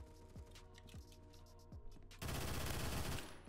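Rapid automatic fire from an X95R MTAR rifle in the Phantom Forces shooter game, a sustained dense burst starting partway through after scattered quieter shots, loud and close.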